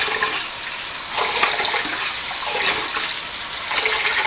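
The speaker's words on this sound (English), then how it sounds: "and then fill up some more water." Running water pours steadily into a container as starch is rinsed out of food during pork chop preparation, a continuous loud gushing splash with slight surges and no talk.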